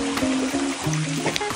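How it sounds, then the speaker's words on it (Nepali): A stream flows steadily behind a temple complex, a continuous close rushing wash of water with faint tonal sounds mixed in. "यसरी कलकल पानी बगिरहेछ"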